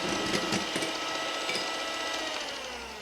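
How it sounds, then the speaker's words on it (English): An electric beater whirs steadily through five egg whites in a bowl, a close continuous mechanical drone with light ticking and rattling against the bowl, alone without talk. "Beat the egg whites, only the egg whites,"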